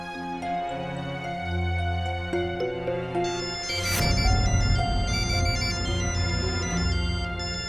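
A phone rings with an incoming call in a Turkish-dubbed Indian drama, its repeating electronic tone sitting over a sustained musical score with a swelling whoosh midway.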